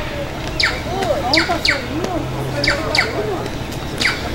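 Small bird chirping in short, repeated bright calls spaced through the clip, fairly close, while a person talks over them.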